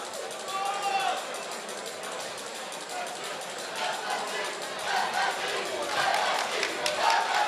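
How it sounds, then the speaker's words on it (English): Crowd at a Muay Boran fight event in Britain shouting and chanting in support of a fighter, a busy roar of voices that swells and dips, with more distinct shouts rising near the end. "There you can hear in the crowd the support for Artur Saladiak screaming FSC, FSC."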